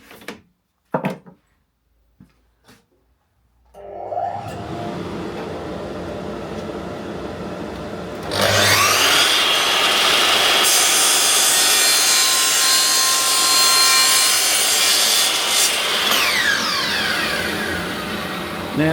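Test cut sawing through wood with a dust extractor running: a few knocks, then a steady saw drone that grows louder and broader as the cut proceeds, continuous for about fifteen seconds with no talking.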